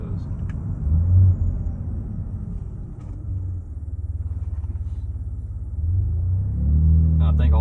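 A 2017 Ford Fusion Sport accelerates through its gears from inside the cabin, giving a loud, steady engine rumble that dips and then builds again toward the end.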